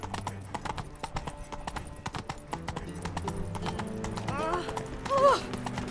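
Roach, the horse in The Witcher 3 on PS4, gallops with rapid rhythmic hoofbeats that build steadily, ending in a brief, loud neigh.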